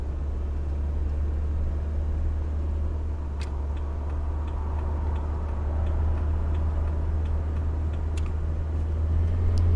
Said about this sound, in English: I can really hear those horsepower coming.